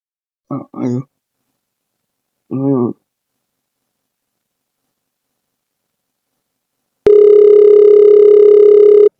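After two short spoken phrases and a pause, a steady telephone dial tone sounds continuously, loud and close.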